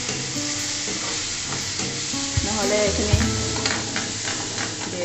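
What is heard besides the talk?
frying and stirring bhindi masala in a pan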